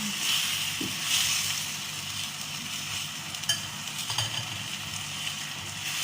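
Beef steak frying in a pan gives off a steady hiss and sizzle while being stirred, with occasional scraping clicks from the utensil and no talking.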